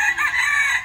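A rooster crows once, loud and close, with a short bright call and no other sounds around it.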